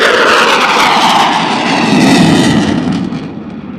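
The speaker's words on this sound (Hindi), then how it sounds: "परेड वेन्यू के बाएं जानिब से आते हुए यह तैयारा मैक्स रेट टर्न का मुजाहिरा" Military jet flying a max rate turn over an air parade, its engine roar loud and sustained, swelling and shifting in pitch as it sweeps past nearby, then fading slightly at the end.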